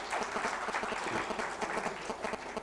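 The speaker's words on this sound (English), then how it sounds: "a great applause to Kannan" An audience applauds warmly for Kannan, dense steady clapping from many hands filling the room at a fairly even level throughout, with no voices rising above it.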